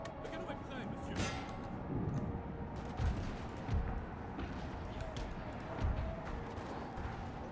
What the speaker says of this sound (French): Le canon est prêt, monsieur.